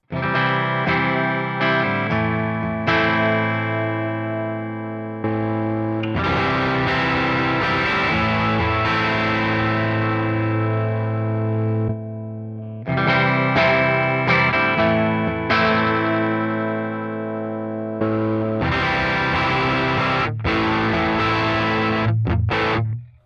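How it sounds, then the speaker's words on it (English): Heavily distorted electric guitar through a Line 6 HX Stomp amp model with heavy distortion and a deluxe vibrato cab, playing chords and riffs in bursts with brief pauses, loud and saturated with a wobbling vibrato tone. "an amplifier with heavier distortion settings, running through a deluxe vibrato cab"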